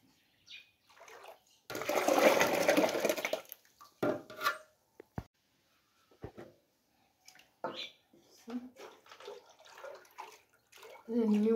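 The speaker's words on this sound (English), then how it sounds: "Let me wash again my hand" Hands being washed with water while a traditional sorghum drink is prepared, a broad splashing burst early on followed by scattered short clinks and drips, with a voice speaking in between.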